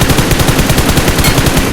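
Rapid, loud gunfire from a sniper rifle rattles nonstop in dense, even bursts close by, with no voices over it.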